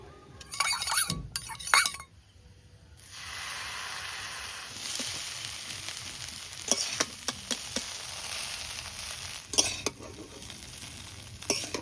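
Chow mein sizzling and frying in a pan as chili, soy and tomato sauces go in, with steady hiss, spatula stirring and clinks of metal on the pan, a few sharp scrapes at the start.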